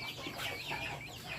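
Chickens clucking in a backyard flock, a continuous busy chatter of soft clucks close by with no talk over it.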